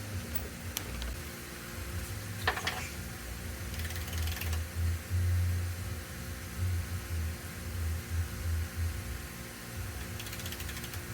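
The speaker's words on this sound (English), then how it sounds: "you're gonna wanna go ahead and torque these bolts down to 32 foot-pounds" A torque wrench tightens bolts on a BMW to 32 foot-pounds, giving a few sharp ratcheting clicks over a steady mechanical background, close by with no talk.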